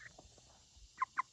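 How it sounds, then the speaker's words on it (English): A young rooster gives a few short, faint squawking calls, three quick ones close together near the end, over quiet farmyard background. "I'm pretty sure, a baby rooster."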